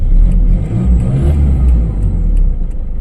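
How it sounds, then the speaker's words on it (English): A Toyota Hilux turbo pickup's engine revving, heard from inside the cab: a loud, steady low rumble that swells briefly in the middle and then settles back to a heavy drone. "So yeah, let's rev it. Interior sound."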